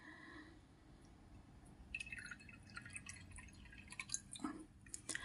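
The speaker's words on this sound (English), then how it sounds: "I'm going to pour a cup of tea." Tea being poured into a cup, quiet and close, starting after a soft lead-in with trickling, splashing liquid and small glassy clinks that grow busier toward the end.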